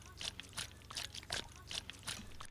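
Water shaken in a plastic cup sloshes in quick, rhythmic bursts, about five splashy strokes close to the microphone over a low hum.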